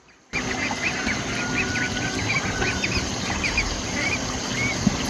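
Ducks and ducklings at a pond in the morning, a steady chorus of soft quacks and peeps over a continuous outdoor background, moderately close.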